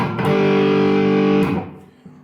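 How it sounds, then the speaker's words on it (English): A heavily distorted electric guitar chord from a Vox Valvetronix VT40+ amp rings out loud and sustained for about a second, then cuts off and fades into quiet. "It's too heavy, too much distortion."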